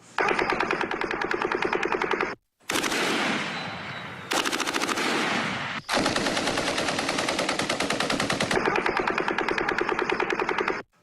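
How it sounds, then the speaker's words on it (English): A belt-fed light machine gun fires long sustained automatic bursts, rapid and loud, separated by short gaps, with echoing reports trailing between the volleys. "it's not a bump stock, it's a belt-fed light machine gun"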